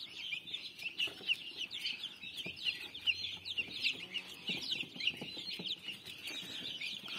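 Hens and chicks at feeding time, a continuous chorus of high peeping chick calls with occasional lower clucks, moderately close with faint background rustle and no talking.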